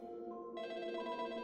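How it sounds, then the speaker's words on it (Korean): A telephone rings with a steady electronic tone that swells brighter partway through and continues without a break, heard alone and fairly quiet. "계속 울리는 그 전화기에 수화기를 들었다가 그대로 내려놓기로 생각한다."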